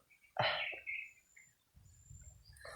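A crow gives one harsh, loud call up close, followed by quieter chirps and a low rumbling background.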